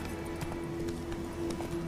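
Horse hooves clip-clop steadily in the Witcher 3 video game, running under a continuous droning tone and game ambience, with faint voice traces mixed in.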